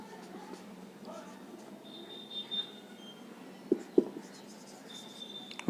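Marker strokes on a board during a maths lesson on age-ratio problems: soft, intermittent squeaky writing over a quiet room hum, with a couple of sharp taps near the end.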